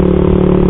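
Yamaha MX King motorcycle with a custom aftermarket exhaust running hard, a loud, close, continuous engine drone with a steady throbbing pulse and no voices over it.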